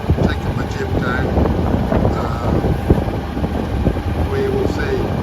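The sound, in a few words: wind at sea on a solo sailboat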